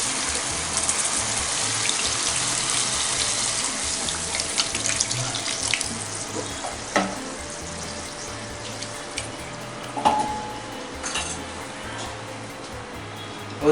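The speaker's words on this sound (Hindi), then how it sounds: "तो अब इसमें आधा लीटर में पानी डालूंगा" Half a litre of water runs from a tap or jug into a pan of spiced bhindi masala on a high flame, a steady rushing pour with a few clinks and knocks and no talk.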